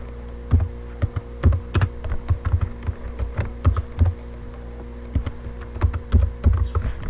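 Rapid, uneven keystrokes clatter on a computer keyboard, close and clear, in short bursts with brief pauses and no talking.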